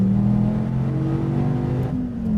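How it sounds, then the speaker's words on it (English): An SRT Viper GTS with an 8.4-liter V10 accelerates down the front straight at Laguna Seca, a loud, steady engine drone rising slightly in pitch with a brief dip near the end, no talk. "SRT Viper GTS. Going down the front straight at Laguna Seca."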